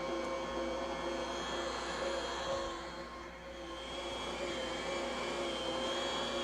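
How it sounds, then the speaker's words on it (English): A Bosch Universal mixer kneads a batch of bread dough with a steady, loud motor whine and hum, holding a constant drone throughout with a slight dip midway. "This is going to take about 5 to 6 minutes to knead this amount of bread dough."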